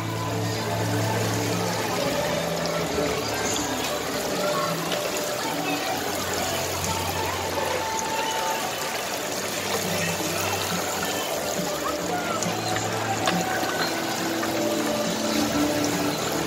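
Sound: running water

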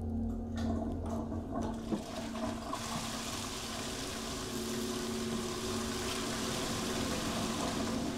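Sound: toilet flushing in the video game Fears to Fathom

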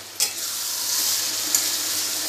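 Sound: stir-frying mutton with ground spices

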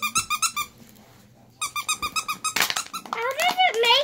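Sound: squeaking a puppy squeaky toy

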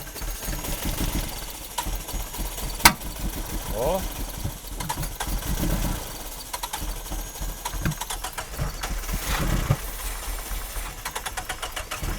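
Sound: Nissan 200SX engine starting and idling

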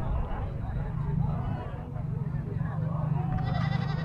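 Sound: goat bleating at a livestock market

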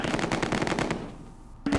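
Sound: sniper gunfire in the video game Close Combat 2

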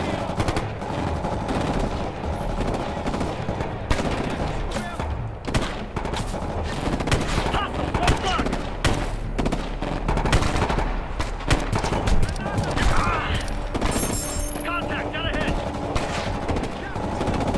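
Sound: gunfire from video game Ghost Recon Future Soldier

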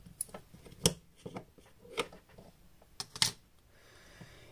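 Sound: opening the battery cover of a Sony X3000 camera

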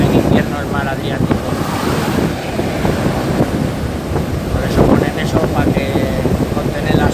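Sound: Adriatic Sea waves and wind on the beach

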